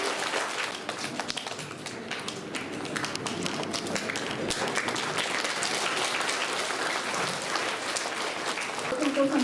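Steady, loud applause from a school audience honouring top board-exam students at a Maharishi Dayanand Adarsh School award function, dense clapping sustained throughout with murmured voices mixed in.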